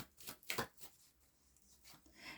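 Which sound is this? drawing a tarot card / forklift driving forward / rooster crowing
drawing a tarot card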